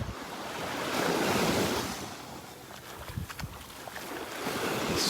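Ocean surf washes steadily onto a beach in North Naples, Florida, a continuous broad rush of waves swelling and easing, with wind buffeting the microphone throughout and no voices.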